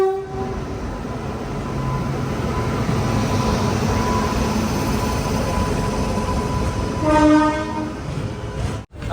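A train pulls out of Nagapattinam railway station, rumbling steadily with rail clatter, then its horn blares loudly near the end before a brief drop-off.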